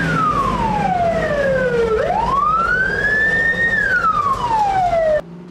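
A fire engine siren wails loud and close during a fire drill exercise, its pitch sweeping down, rising, holding, then falling again over several seconds before cutting off abruptly.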